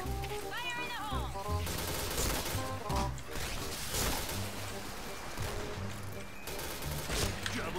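Sniper rifle shots ring out in the video game Point Blank, with repeated loud cracks spread across a busy mix of game effects and music, while a voice talks over them.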